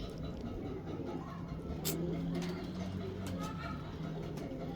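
Lakhay pigeons at a loft coo softly in low, repeated rolling calls, with voices talking over them throughout.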